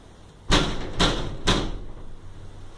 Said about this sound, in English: 3 knocks.